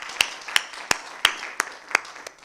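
An audience at a talk on an African research incubator claps for the speakers. Seven sharp, evenly spaced claps ring out close and clear, slowing a little toward the end, with no talking.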